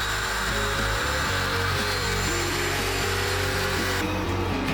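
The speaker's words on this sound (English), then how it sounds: "I set up my router with a 1/4" straight bit on this little circle cutting jig I threw together, and I took a few passes," A router fitted with a 1/4-inch straight bit on a circle-cutting jig cuts pallet wood, a loud, continuous motor whine with a rough cutting buzz that shifts slightly as the bit bites.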